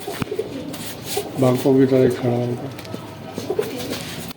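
Large pigeons coo in a short rhythmic phrase at close range, heard beneath someone speaking, with faint background rustle.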